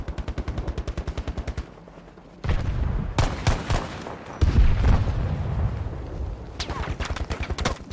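Automatic gunfire in the video game Battlefield 2042, with rapid rhythmic bursts at the start and end and heavier shots and impacts in the middle, all close and loud over busy battle ambience.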